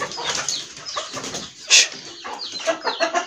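Backyard chickens, including a hen with chicks and a white rooster, cluck and chatter in short overlapping calls at moderate distance, with one sharper squawk midway.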